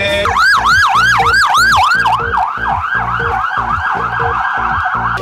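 A loud ambulance siren wails steadily and very close in a fast repeating rise-and-fall cycle, then shifts partway through to a slightly different, quicker sweep, with no voices.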